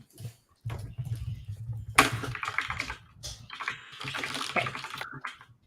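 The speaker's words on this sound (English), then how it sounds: "I've never heard anybody type as loudly as Richard types." Loud, clattery typing on an old 1990s-style computer keyboard comes in irregular bursts of sharp key strikes with short pauses between them, close and prominent with no talk.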